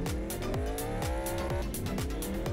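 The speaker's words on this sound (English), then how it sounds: "Let's take it for a spin." Supercharged police car in Roblox Mad City pulling away, a loud engine revving up through repeated rising gear sweeps in quick succession, with a squealing tire edge, steady and close throughout.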